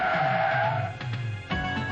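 Tires of a BMW 535i skid and squeal under anti-lock braking, a loud sustained screech that pulses briefly and then surges again, heard alone without talk.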